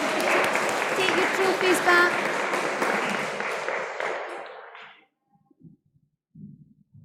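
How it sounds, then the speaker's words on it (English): A school audience applauds at a Primary 7 prizegiving, with steady, dense clapping for about five seconds that then stops abruptly. An adult voice speaks briefly in the quiet that follows. "let's give them a big round of applause"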